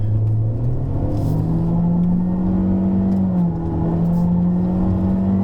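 A Honda Civic RS pulls out onto a race track, its engine note rising and climbing in pitch as it accelerates, then holding at a loud steady drone, heard close from inside the cabin.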